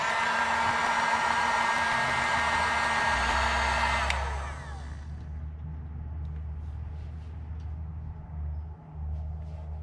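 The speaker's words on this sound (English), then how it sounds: "So I'm gonna use a heat gun to change the shape here." Heat gun blowing hot air onto a cheap plastic toothbrush to reshape it, a steady close airy roar that cuts off around four seconds, leaving a quieter low hum with no talk.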